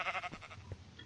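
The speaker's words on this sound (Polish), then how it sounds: "Co tu robi owca?" Sheep bleating in the Minecraft video game: a single short, wavering digital bleat, clear and fairly close, followed by a quieter tail.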